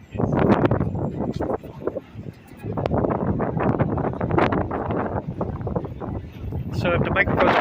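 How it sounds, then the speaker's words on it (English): Wind gusting into a microphone on the Las Vegas Strip during a windy advisory day, loud rumbling buffets rising and falling throughout while people talk underneath. "Hear that wind started to blow just a little bit harder here."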